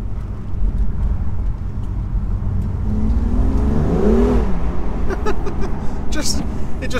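A BMW M2 with a modified exhaust revs hard beside a wall, the engine rising and falling in a loud surging sweep before settling into a rumbling idle, with talk alongside.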